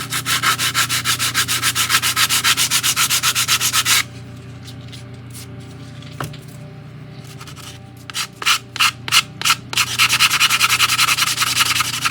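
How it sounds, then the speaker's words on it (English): Sandpaper rubs rapidly back and forth on the wooden hull of a 1:100 scale ship model, loud and close for about four seconds, then pauses under a steady hum before a few short strokes lead into more sustained sanding. "I'm going to actually sand down the tops of the handrails as well"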